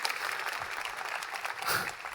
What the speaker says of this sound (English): So extra round of applause for our keynote speaker